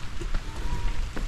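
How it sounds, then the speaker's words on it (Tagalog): Steady rain falls outdoors along a muddy rural road, a continuous dense patter that holds even throughout with a few soft drips standing out. "umuulan na naman"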